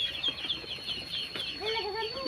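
Several chickens cluck and squawk up close as they are carried off from a home poultry setup, a quick run of agitated calls over faint background noise.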